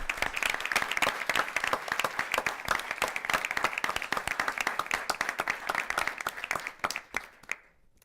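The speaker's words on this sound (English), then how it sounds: "Let's give those teams a big round of applause" Audience applause for high school debate semifinalist teams at an international public policy debate final, a dense, steady round of clapping that fades out near the end.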